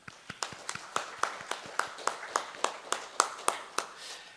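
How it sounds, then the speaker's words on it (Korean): Scattered hand claps from a small audience at a temple service, honoring school officials: a dozen or so distinct, fairly sharp claps at an uneven rhythm, slightly distant and moderately quiet, with no talking. "우리 간부님들 위해서 박수 한번 쳐주시죠"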